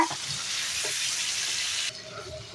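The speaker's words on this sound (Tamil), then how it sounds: "தக்காளியும் நல்லா வதங்கிடணும் எண்ணெயில்" Tomatoes sauté in hot oil for a chicken gravy, giving a steady close sizzle that cuts off abruptly near the end.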